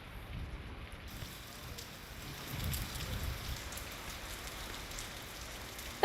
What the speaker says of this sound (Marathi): पण विजांच्या कडकडाटासह जोरदार मुसळधार पाऊस पडतोय